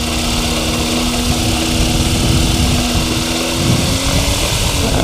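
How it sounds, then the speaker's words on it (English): A light propeller aircraft like a Cessna drones steadily with a loud, continuous buzzing engine hum and a steady tonal whine throughout, without any break. "It's like a Cessna. It's a light aircraft"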